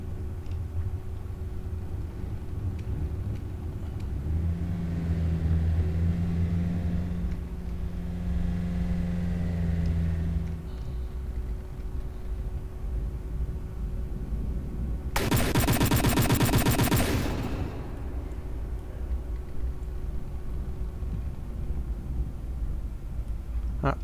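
A burst of rapid cannon fire from an advanced cannon fired manually in From The Depths, a loud rattling volley of about two seconds standing out over a steady engine hum and some mechanical droning.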